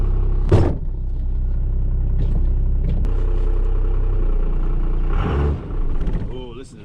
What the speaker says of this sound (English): Oh, listen to that horsepower. These old Dodges, you can hear it.